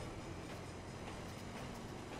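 Train moving in a video game, a steady faint rumbling roll with soft rhythmic clatter throughout, no talking.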